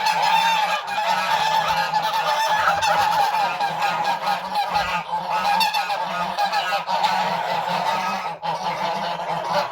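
A flock of geese honks loudly and without pause, their calls overlapping nearby.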